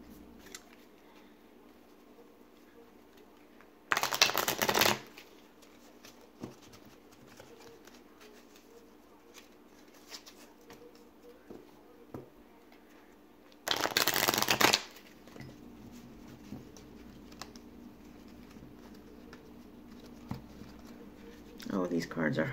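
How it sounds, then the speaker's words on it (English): Tarot cards shuffled during a reading, two short loud bursts of riffling close by, separated by quieter stretches of low background noise and faint handling. "let's go ahead and pull some final cards here."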